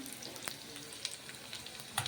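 Chopped onions fry in a pan for an eggplant curry, a quiet continuous sizzle with occasional small crackles and pops.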